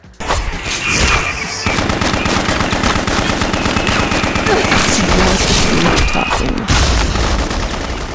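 Continuous heavy gunfire from Nazi soldiers in the video game BloodRayne, rapid machine-gun bursts with booming impacts, loud and dense throughout with a brief break early on.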